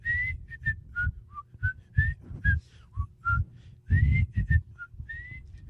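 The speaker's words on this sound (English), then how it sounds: "I can't whistle anyway." A person whistles a series of short, clear, bright notes in an irregular rhythm, nearby and fairly loud, with soft breathy noises between the notes and no talking.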